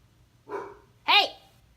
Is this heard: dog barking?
yes